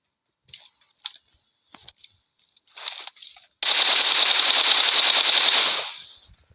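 Video game gunfire: scattered single shots and short clicks lead into a loud, sustained burst of rapid automatic fire lasting a couple of seconds before cutting off.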